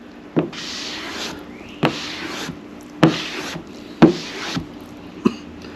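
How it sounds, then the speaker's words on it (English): Rhythmic back-and-forth rubbing strokes scrape across a surface, roughly one swipe per second, each preceded by a soft tap, close and moderately loud, as car paint on a 1985 Mustang GT is wet sanded by hand. "Now I'm going to water sand it"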